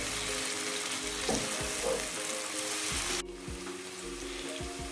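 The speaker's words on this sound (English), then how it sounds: "Now just let that boil for 2 minutes to cook away the alcohol." White wine boiling in a pan for a creamy mushroom chicken with garlic and thyme, a steady bubbling sizzle with a couple of soft knocks, dropping quieter partway through.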